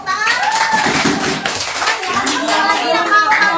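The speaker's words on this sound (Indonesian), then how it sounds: "Oke, tepuk tangan." Children clapping together in a classroom during a guidance lesson, a steady burst of applause lasting several seconds, close and fairly loud, with young voices mixed in.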